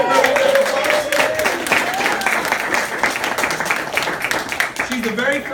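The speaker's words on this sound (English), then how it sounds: "Let's give her a round of applause" A business presentation audience claps for a woman called up on stage, loud dense applause sustained throughout, with a voice talking over it near the start and again at the end.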